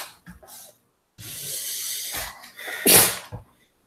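A single close, loud sneeze from a person during a spicy noodle challenge, preceded by sharp breathy intakes and followed by a brief snort, in an otherwise quiet room.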